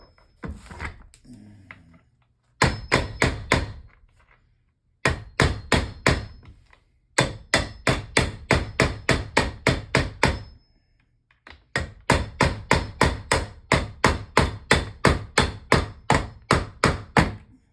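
Metal hammer blows on a screw while repairing a four-wheel moving dolly, sharp and close, struck in rapid bursts of six to ten strikes separated by short pauses.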